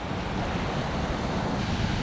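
A waterfall in Laos, near a swimming spot, gives a steady, loud broadband rush of falling water close by, with no voices over it.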